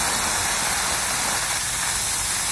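Compressed air hisses steadily from a snowmaking nozzle, a loud, continuous broadband rush with no pauses, close to the listener and with no voices over it.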